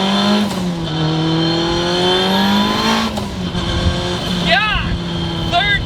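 A tuned 900-horsepower Mitsubishi Evo accelerates hard, its engine a loud, steady roar climbing in pitch with a shift midway and brief sharp chirps later.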